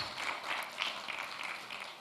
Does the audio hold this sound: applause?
yes